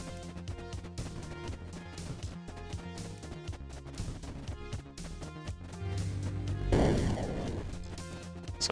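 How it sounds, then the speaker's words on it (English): A large explosion in the strategy game Creeper World IXE rises out of dense game music and sound effects, a loud broadband blast swelling and then decaying over a few seconds near the end. "It's a nice explosion."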